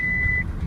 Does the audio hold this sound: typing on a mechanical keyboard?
no